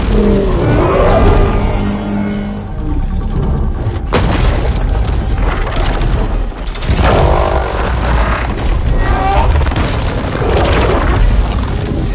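Heavy booming blasts and rumbling explosions from cannon fire in a video game battle, loud and dense, with a sharp crack around the middle and continuous low rumble throughout, no speech.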